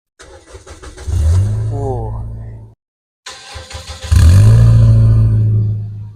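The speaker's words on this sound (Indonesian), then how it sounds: "Kita dengerin suara dari mobil ini." A modified Toyota Yaris engine cranks and fires up, idles with a deep rumble, then cuts out briefly before roaring back louder with revs, close and loud.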